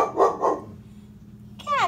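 A dog barks at gunshots at a rural property with garden and land around it during deer season: two loud close barks, a short pause, then a higher yelping bark.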